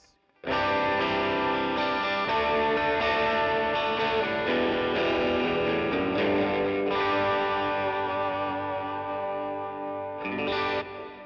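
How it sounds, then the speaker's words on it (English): An electric guitar through an overdrive pedal plays sustained, gritty chords for several seconds, thick and saturated, with a few changes and a brighter accent near the end. "Okay, now let's talk about this overdrive over here."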